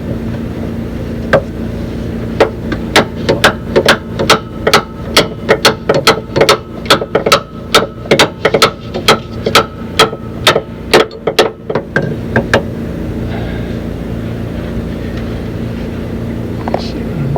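A wrench ratchets a nut off the panhard bar of a 1984 Wanderlodge PT in a garage: a quick, regular series of sharp metallic clicks close up over a steady low hum, then the clicking stops.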